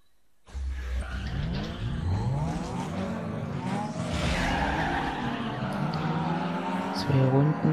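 A car drifting in Need for Speed Underground 2, its engine revving and sliding with long wavering tire squeals, loud and continuous, while someone talks over it.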